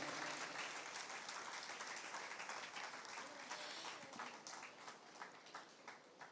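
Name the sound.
audience applause for senior sisters at a cultural event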